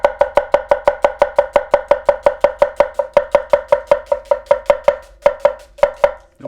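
A knife chopping food on a cutting board, steady rapid strokes of about thirty close crisp knocks in an even rhythm, alone without talk.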